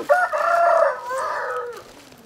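A farmyard rooster crows once up close, a loud drawn-out call with a falling tail, among chickens kept at a rural Vietnamese home.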